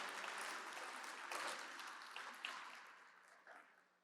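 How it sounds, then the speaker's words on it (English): Audience applause at a New York City charity gala, a broad, steady wash of clapping across a large room that starts strong, then gradually thins and fades over a few seconds, heard at a moderate distance. "Jasmine Kaur, they do deserve a round of applause."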